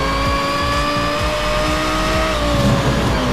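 A Porsche Carrera GT race car engine in a racing video game holds a loud, sustained, harmonic-rich drone with a steady pitch that sags slightly over a few seconds, under a continuous low rumble and no voices.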